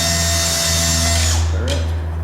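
A power drill bores steadily into wood with a loud, constant whine. Near the end the drill spins down and stops abruptly.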